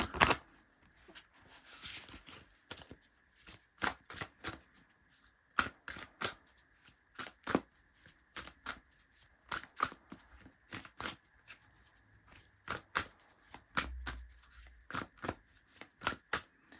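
An oracle card deck shuffled close up during a tarot-style reading, a long run of quick papery riffles and snaps repeating in an irregular rhythm, quiet and with no talking.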